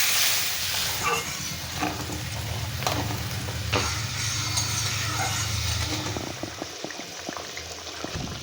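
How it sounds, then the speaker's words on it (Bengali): Water hits hot fried spices and potatoes in a pan for a Bengali fish curry: a loud hissing burst that settles into steady bubbling and sizzle with a few stirring clinks, close by and without talk. "এবার আমি পরিমাণের মতন জল দিয়ে দেবো।"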